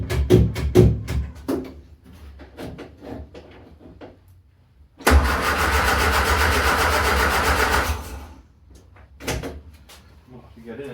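An Austin A30/A35 engine under restoration cranks after a few short knocks and clatters, then a steady, loud churning run of about three seconds before it stops, followed by more scattered clunks.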